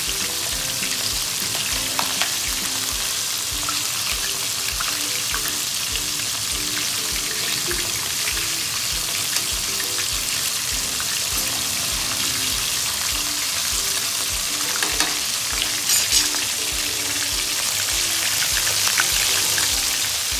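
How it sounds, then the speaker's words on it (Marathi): Prawns frying in oil in a pan over low gas for Maharashtrian prawn chilli, giving a steady, dense sizzle and crackle that runs unbroken throughout, fairly loud and close with no talking. "त्याचप्रमाणे आपण कोळंबी पण तळून घेणार आहोत"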